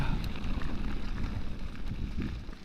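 Steady wind buffets the microphone on a breezy, almost windy day out on a bike ride, a broad continuous rumble with gusts rising and falling throughout.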